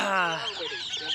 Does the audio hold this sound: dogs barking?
no